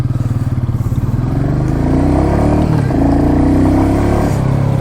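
A 2021 Royal Enfield Meteor 350 motorcycle pulls away from close by. A loud thumping single-cylinder idle swells into rising revs, with brief dips at the gear changes.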